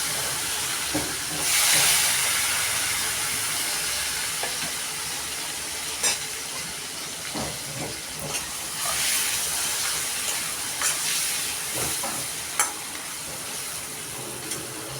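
Dried small fish (nethallu) fry in hot oil in a pan for an egg curry, a steady close sizzle and hiss running throughout with a louder burst near the start and occasional sharp clinks of stirring.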